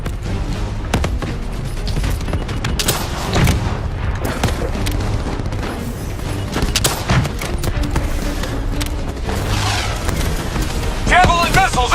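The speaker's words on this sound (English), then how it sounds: "Javelin missiles incoming!" Javelin missile explosions and gunfire in Call of Duty: Black Ops III, with dense rattling bursts, booms and impacts in a continuous loud battle din.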